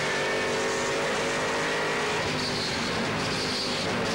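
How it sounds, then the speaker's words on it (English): Ford Mustang race car at a 1997 British GT Championship round at Donington, its engine droning steadily at a distance as it runs on the track, with no talk. "The Mustang now, Rob Schull at the wheel, and being a little bit delicate with the throttle"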